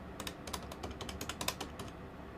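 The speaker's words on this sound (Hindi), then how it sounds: "नंबर मिलाओ जी इनको।" Quick, irregular clicking taps like buttons being pressed in rapid succession, close and fairly crisp, with no talking.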